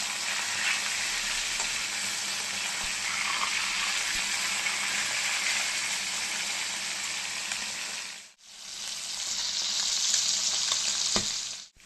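Bata fish, freshly flipped, fry in mustard oil in a steady, loud, close hiss. The sizzle breaks off for a moment, then surges back brighter.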